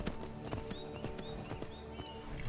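Rhythmic clip-clop of horse hooves galloping in the video game Skyrim, quick repeated thuds at an even pace, with faint game ambience underneath and no talking.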